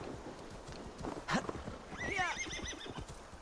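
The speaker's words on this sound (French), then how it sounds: "Mon cheval." Horse whinnying loudly amid hoof clip-clops while walking through snow, with a sharp snort or knock just before the neigh, no talking.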